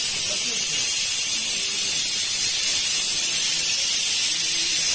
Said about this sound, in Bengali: আর এদিকে চলছে দেখো কুকারে সিটি দেওয়া চলছে।